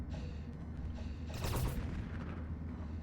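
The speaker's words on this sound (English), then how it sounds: "Now that was an explosion." An explosion in the space-colony video game Space Haven: a muffled low boom with a short burst of crackle, over a droning low ambient bed.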